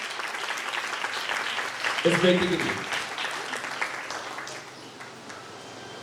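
Applause for a young girl at a children's prize distribution on Resurrection Day, a crowd clapping steadily under a woman's spoken words, with a brief louder burst partway through.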